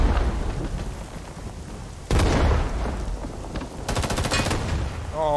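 Grenade blasts and rattling gunfire from the Rising Storm 2 video game, a dense, continuous battle din with a sharp loud burst partway through and rapid automatic fire near the end.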